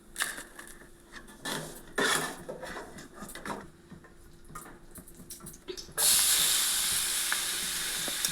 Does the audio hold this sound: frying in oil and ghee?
yes